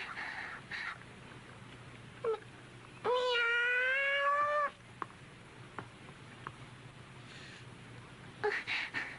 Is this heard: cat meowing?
yes